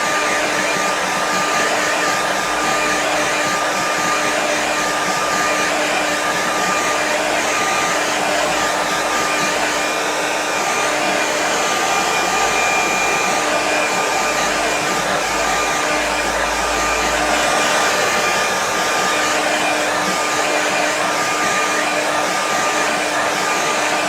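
A hair dryer blows steadily on a wet winter landscape watercolour painting to speed drying, giving a loud, continuous whooshing roar that holds for the whole stretch with no talk.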